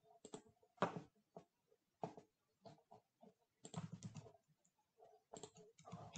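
Quick bursts of keystrokes on a computer keyboard, soft and close, clattering in uneven clusters with short pauses between words as a title is typed.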